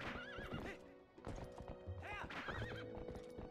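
Epona, a horse in a Zelda video game, neighs and whinnies twice over steady clip-clop hoofbeats as she gallops and jumps, the game sounds loud and close with no talk.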